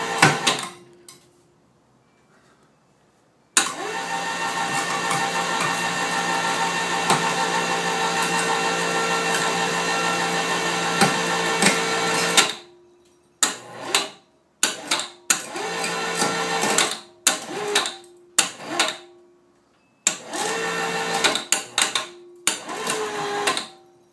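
Motorcycle trailer hoist platform raises with a loud electric motor whine that runs steadily for about nine seconds, then comes in a series of short start-stop bursts separated by silence.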